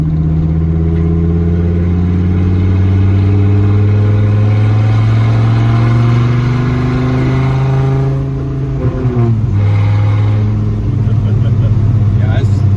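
1993 Dodge Viper RT/10 engine pulling steadily from inside the car, deep drone climbing in pitch, a gear change near the end and renewed acceleration, with people talking over it.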